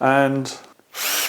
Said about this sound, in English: I can drill now at a right angle.